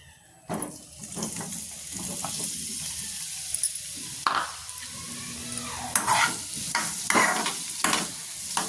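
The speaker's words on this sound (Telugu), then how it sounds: "వేసి ఇప్పుడు బీట్రూట్ వేసి బాగా ఫ్రై చేయాలి" Beetroot frying in oil in a pan, with a constant low sizzle broken by repeated sharp scraping and clattering strokes of a spoon stirring, close and uneven in rhythm, with no talking.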